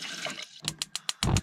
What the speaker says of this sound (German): mache ich schon mal etwas Wasser für den Kaffee.